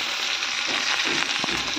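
Chopped onion and green chili fry in a pan with a steady, close sizzle that holds for a couple of seconds, touched by a few soft stirring scrapes.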